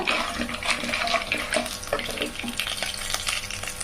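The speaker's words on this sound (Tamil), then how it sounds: "கொஞ்சம் சிம்மில் வச்சு அப்படியே லைட்டாக வறுத்துக்கலாங்க" Chana dal, cumin and roasted peanuts lightly roasting over low heat in a pan, a steady close crackle and rustle of stirring with faint sizzling throughout, with no voices.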